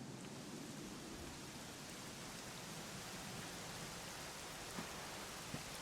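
Steady rainfall in the video game Dragon Quest XI S hisses evenly throughout, soft and continuous, with a couple of faint drips standing out near the end.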